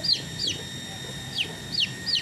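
Brahma chickens, a feather-legged breed, clucking in a farm setting, with several short high squawking calls scattered over a steady low background hum, no talking.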